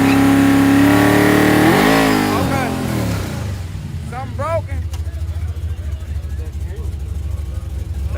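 A drag car built on small tires revs hard in first gear, a loud sustained engine roar climbing and wavering for about three seconds before dropping to a rough idle, with voices speaking over it.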